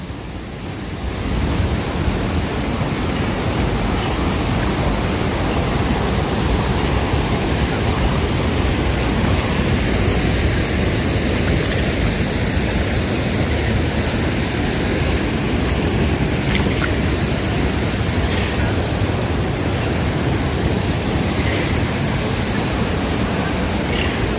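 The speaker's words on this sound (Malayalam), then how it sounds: "എനിവേ ഇതാണ് ദൂസാഗർ വെള്ളച്ചാട്ടം." Dudhsagar waterfall in Goa roars with rushing water, a loud, dense and unbroken wash of noise that holds steady from start to finish with no voices over it.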